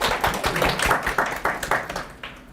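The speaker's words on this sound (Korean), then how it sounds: "뜨거운 박수로 환영합니다" An audience claps to welcome a company CEO to the stage at a business seminar. The clapping is brisk, close and continuous, swelling and thinning in loose bursts, with no talking.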